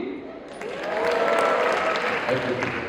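A live audience at a stage talk responds with a swelling burst of cheering and applause that rises after a moment and holds, at moderate loudness.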